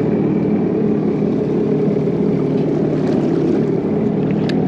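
A personal watercraft engine hums steadily over water at a jet ski race event, with a constant low drone and some wind buffeting, no talking.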